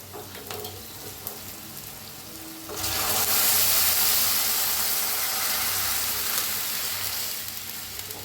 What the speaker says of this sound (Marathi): इकडे साईडला मी गरम पाणी करून घेतलं होतं, ते गरम पाणी ओतते